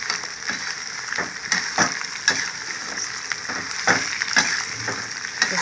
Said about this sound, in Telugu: ఎండుమిరపకాయలు కూడా వేసేసుకున్నాను అనమాట వీటితో పాటు వేగిపోతాయి